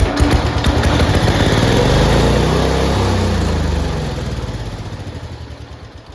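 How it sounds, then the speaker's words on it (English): A 12 hp Kohler single-cylinder horizontal-shaft engine running on a 1971 Cub Cadet 126 garden tractor, a loud, steady low chugging close by that eases off slightly toward the end, with no talk. "we have a 12 horsepower Kohler single cylinder horizontal shaft engine. It's in here. It's big. I'll put a clip of it running"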